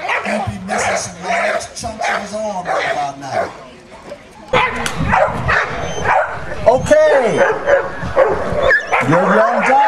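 A trained protection dog barks nonstop and close during a dog show bite demonstration, rapid loud barks and yelps mixed with a voice talking over them.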